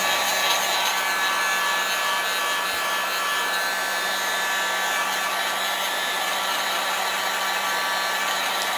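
A hair dryer blows steadily on painted wood of a tier tray, a loud, constant whooshing whine with a faint rubbing texture, close and uninterrupted.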